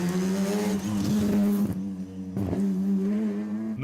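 Historic rally car on a Tour de Corse historique stage, engine loud and close as it revs hard through gears, drops briefly, then surges again.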